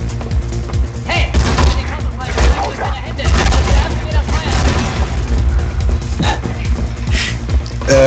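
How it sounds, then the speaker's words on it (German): Gunfire and explosions in a PS3 video game, a dense run of loud thumps and booms with a sharp crackle on top, going on throughout under game music and effects. "Ich höre Schüsse"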